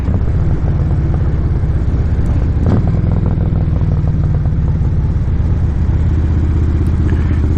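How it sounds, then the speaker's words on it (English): Motorcycle engine running steadily close by, a loud continuous low rumble with a brief clatter near the three-second mark, heard alone with no talking. "let's go gas up the bike and head for work"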